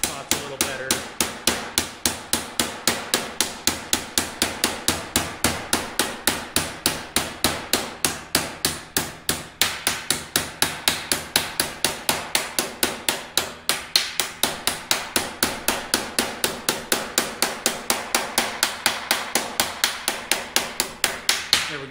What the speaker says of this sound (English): I'm tapping until I hear and feel the hammer against the table